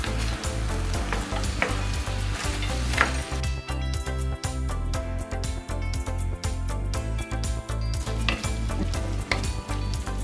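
Migas with tortilla chips sizzling loudly in a pan as they are stirred together, a dense, continuous frying hiss with scraping strokes of the utensil, close up and with no voices.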